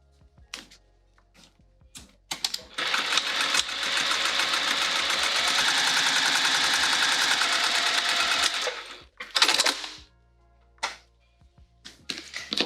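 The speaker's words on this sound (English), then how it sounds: "Let's top stitch this so it behaves." A sewing machine top-stitching a fabric snap wallet runs in one steady burst of about six seconds. Short clicks and handling noises come before and after it, and a brief whir follows. Close by, no speech.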